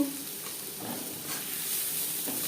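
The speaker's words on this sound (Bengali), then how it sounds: "পেঁয়াজ হালকা করে ভেজে নেব তিন চার মিনিট" Chopped onions frying gently in oil for a sarputi fish curry, with a low, steady sizzle and occasional quiet stirring clinks, close by and without any voices.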